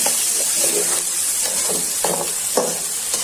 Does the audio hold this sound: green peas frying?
yes